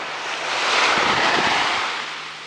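Surf washing onto Maenam beach on Koh Samui, a steady broad rush that swells and eases once over a couple of seconds, with some wind noise on the microphone and no voices.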